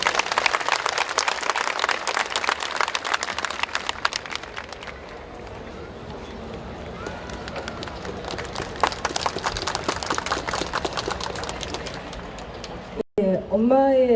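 Crowd applause at a candlelight memorial vigil for the Sewol ferry victims, sustained clapping from a large outdoor gathering that fades toward the middle and then comes back, with a brief voice near the end.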